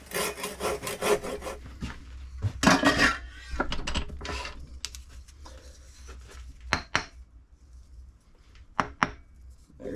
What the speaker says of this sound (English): Get fancy with our Rob Gossman dovetail saw, which is absolute overkill.